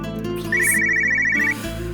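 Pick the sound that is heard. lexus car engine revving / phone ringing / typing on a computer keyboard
phone ringing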